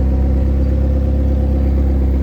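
A McLaren 720S Spider sits running, its engine holding a steady, deep idle hum that is close and loud and stays constant, with no talking.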